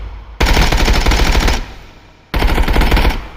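Two long, loud bursts of automatic fire from a 5.56x45 rifle hitting a wall in the game Contractors Showdown, the first lasting over a second and the second following after a brief pause.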